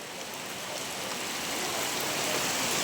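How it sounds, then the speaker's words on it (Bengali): Steady rain falls on a village market in Chuadanga, Bangladesh, a dense, even hiss that swells slightly over a few seconds, with no voices or other distinct sounds. "সকাল থেকে বৃষ্টি হচ্ছে"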